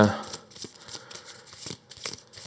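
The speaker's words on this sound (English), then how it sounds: "So I'll do a quick shuffle to the decks" Quick riffle-shuffling of a deck of Earthborne Rangers board game cards, a busy stream of crisp paper flicks and taps over about two seconds, with a voice speaking underneath.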